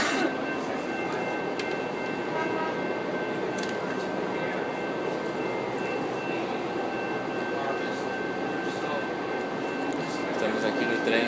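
Riding inside a moving train, with a steady rumble and rushing noise running throughout at an even level, plus faint high tonal whines over it.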